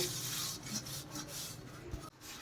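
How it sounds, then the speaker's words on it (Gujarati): A small metal pot (loti) scrubbed by hand with Pitambari cleaning powder in a kitchen: close, continuous gritty rubbing strokes in a steady back-and-forth rhythm, ending with a short knock. "તો જુઓ આપણે આ લોટીને પણ ઘસશું"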